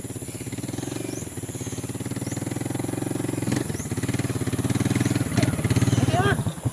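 A motorcycle engine runs steadily and close, its low throbbing rhythm continuous throughout, with a person talking over it.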